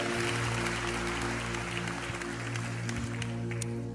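Applause from a church service congregation fills the space as a steady wash of clapping under a sustained droning musical tone, fairly distant and even throughout.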